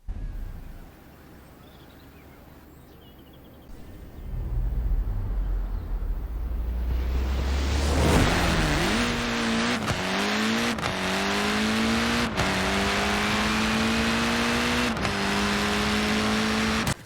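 Fiat X1/9 in Forza Horizon 4 on a drag/drift build, engine revving hard and rising through several quick gear changes after a quieter idle start, loud and steady at close range.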